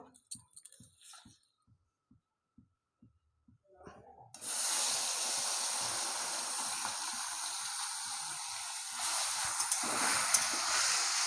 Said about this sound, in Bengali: কড়া করে ভেজে নিয়েছি মাছ